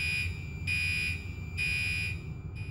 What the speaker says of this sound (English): which you will be able to tell by the pulsing tone from the horn inside the room.